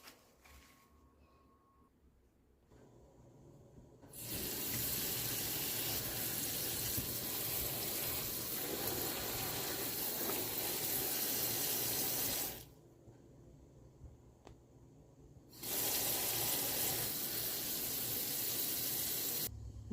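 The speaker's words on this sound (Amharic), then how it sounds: "አሁን አጥቦ መቀቀል ነው።" Collard greens for Ethiopian gomen kitfo rinsed under a running kitchen tap: loud, steady gushing water in two long bursts with a short quiet break between, and no talking.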